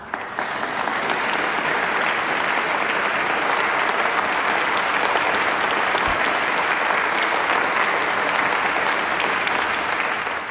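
Loud, sustained applause from a studio audience fills the whole stretch without a break, dense and even throughout, with no talk over it.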